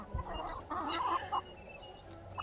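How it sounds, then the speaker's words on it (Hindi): A red Tedhi desi hen clucks close by in short, soft bursts, with a few quick low thumps at the start. "ये टेढ़ी मुर्गी है, रेड कलर की"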